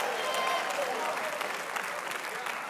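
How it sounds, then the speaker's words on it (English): A church congregation claps and cheers in praise, a dense, steady wash of applause mixed with shouting voices filling the whole stretch at moderate loudness. "clap your hands and give God praise"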